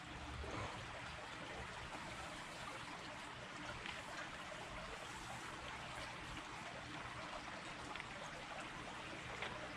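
Creek water flowing steadily in a city stream slated to be filled in with concrete, a continuous rushing, trickling wash that stays even and moderately close throughout with no voices.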